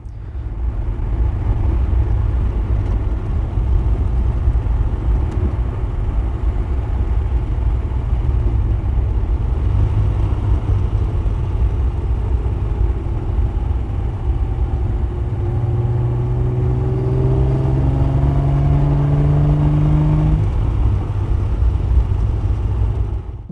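Triumph TR6 engine heard from inside the car while driving, a loud low rumble and drone whose pitch climbs steadily through the revs, continuous and close with no talking.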